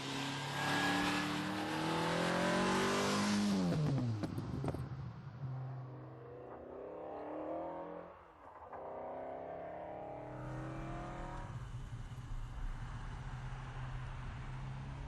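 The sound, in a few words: TVR Cerbera V8 sports car engine revving and accelerating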